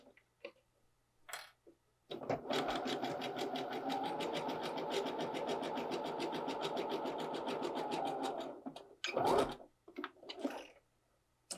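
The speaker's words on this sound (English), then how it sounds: "Next step is to sew the center back underneath the keyhole of the facing." A sewing machine stitches the center back seam of a copper dress below the facing keyhole, running in a steady close whir for several seconds, with faint handling sounds before and after.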